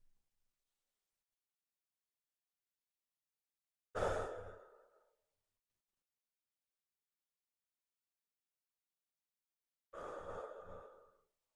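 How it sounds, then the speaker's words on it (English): Two deep breaths during a guided meditation, each a soft, airy rush lasting about a second, separated by a long silence, heard alone and fairly close with no talking. "Close your eyes with me and just start breathing."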